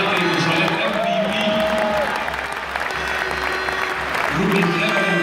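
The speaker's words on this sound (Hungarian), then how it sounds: "egy nagy tapsot Tamarára." Applause for a world-champion handball player at a women's handball match between ETO and Érd, a dense sustained clapping from an arena crowd that dips briefly midway, with an announcer talking over it through the PA.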